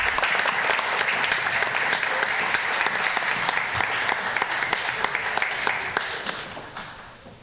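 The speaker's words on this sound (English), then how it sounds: "let's please give them a round of applause" A room full of people at a school board meeting applauding steadily, a dense wash of clapping that holds for several seconds before tapering off at the end.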